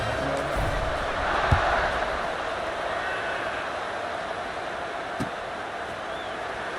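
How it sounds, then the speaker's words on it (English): Steady broadband crowd murmur filling a stadium in the CFB26 college football video game, Alabama at Florida, swelling slightly early and holding at a constant roar with a couple of brief thumps, no commentary over it. "this crowd is buzzing after that last score"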